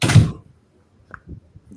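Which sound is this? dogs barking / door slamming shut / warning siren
door slamming shut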